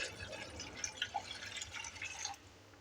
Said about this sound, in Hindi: এখানে একটু জল দিয়ে দিলাম